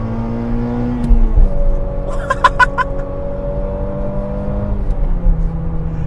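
Toyota Altezza RS200 with the 3S-GE Beams engine revs and accelerates heard from inside the cabin, a steady high engine drone that climbs in pitch, drops at a gear change, then climbs again, with faint clicks around.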